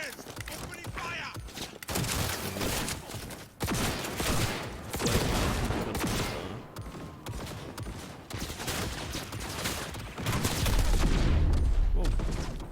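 Dense gunfire in the video game Cyberpunk 2077, a loud, sustained fusillade of rapid shots and bursts filling the scene, with brief gaps, and a heavy low-end surge near the end. Voices are mixed in at points.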